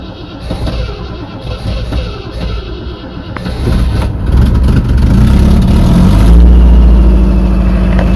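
A Rover SD1 engine under restoration cranks and catches, its rough, uneven churning building into a loud, steady running drone that fills the last couple of seconds.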